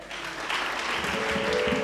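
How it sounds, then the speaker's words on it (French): A congregation at a collective prayer gathering breaks into applause and cheering, a steady moderate wash of clapping with a sustained vocal tone rising beneath it. "Sous vos acclamations"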